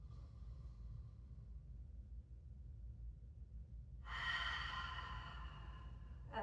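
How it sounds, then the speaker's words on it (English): Deep breaths drawn in through the nose and let out through the mouth during a seated yoga practice: faint, steady air noise, then a louder, breathier exhale near the end, with no talking. "taking a deep breath in through the nose. Pause and exhale through the mouth."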